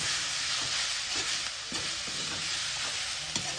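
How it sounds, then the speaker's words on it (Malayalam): Chopped yam leaves fry with coconut in a pan as a spoon stirs them, giving a steady close sizzle broken by repeated scraping strokes. "ചേനയുടെ ഇല മുറിച്ചിട്ട് ഇതിലിട്ടിട്ട് നല്ലോണം ഇളക്കിയിട്ട്"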